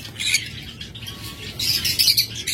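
Pet lovebirds kept for breeding, sharp squawks and chirps in short bursts, near and fairly loud against a low background hum.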